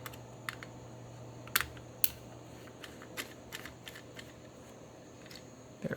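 The lens assembly of an Agfa LeBox camera is unscrewed, producing faint, sparse clicks and small ticks that come close to the microphone and are scattered irregularly against a quiet background.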